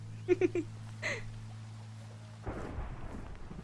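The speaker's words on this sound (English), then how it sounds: "Oh gosh, it's thundering." A low rumble of thunder rolls in a Minecraft storm, the boom swelling near the end over a soft rainy hiss, with a few brief tonal game blips and an underlying music drone beforehand.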